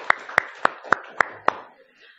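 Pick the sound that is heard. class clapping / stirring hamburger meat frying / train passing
class clapping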